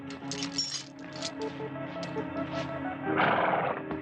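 A person imitates a horse whinny with a wavering, neighing voice, close to the microphone.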